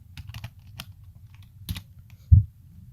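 Close, quiet typing on a computer keyboard while entering CSS code, a few short clusters of soft key clicks ending in one firmer thump, nothing else heard.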